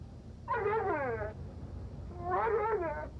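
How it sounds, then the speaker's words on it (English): Dog in a Little Caesars pizza commercial making two drawn-out, whiny vocal calls with wavering pitch, close and fairly loud, each lasting under a second with a short pause between, over faint background noise. "I taught my dog to say I love you."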